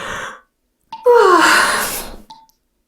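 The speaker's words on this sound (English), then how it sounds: "Why am I yawning so much?" A long, breathy human yawn swells and trails off with a falling voiced tone, preceded by a brief exhale.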